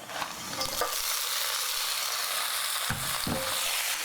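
Kangkung (morning glory) stir-fries in hot oil with garlic and chilies, a constant close sizzle broken by a few louder scraping stirs as the greens are turned.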